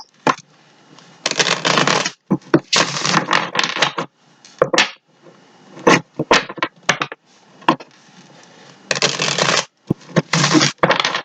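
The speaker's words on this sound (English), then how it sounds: "I'm going to give it a couple shuffles." Tarot cards are shuffled in repeated bursts of rapid riffling and flicking, each lasting about a second, separated by short pauses and single sharp card taps.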